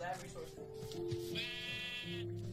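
Sheep bleating in the Minecraft video game: a wavering, harmonic bleat rises over steady game sounds, with excited voices talking throughout.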